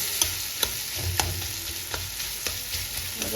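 Spice masala for Bengali cabbage chorchori being stir-fried in a pan, with a steady sizzle and a few sharp scraping clicks of the spatula every half second or so, close and fairly quiet, no voices.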